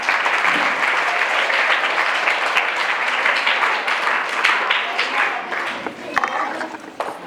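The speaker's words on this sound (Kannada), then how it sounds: "ಎಲ್ಲರಿಂದ ಜೋರಾದ ಚಪ್ಪಾಳೆ" Loud, steady applause from a crowd of students and staff at a school Children's Day celebration, a dense clapping roar that continues throughout and tapers slightly at the end.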